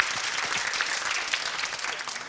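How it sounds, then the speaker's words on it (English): Studio audience at a 1997 quiz show applauding steadily, a dense wash of many hands clapping at close range that holds even and unbroken throughout, with no voices standing out above it. "Give a round of applause to those 5."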